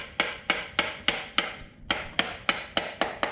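Hammer tapping a piston down into the bore of a 351 Windsor stroker engine block, eleven sharp, evenly spaced knocks in quick succession, close and loud with no talk.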